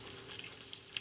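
Bacon frying in a pan as its fat renders, a soft continuous sizzle with a few small pops, fairly quiet and heard alone.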